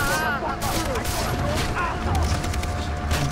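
Gunfire in Far Cry 3, a dense continuous stretch of overlapping shots and booms with whistling tones over it, loud and busy throughout, with voices mixed in.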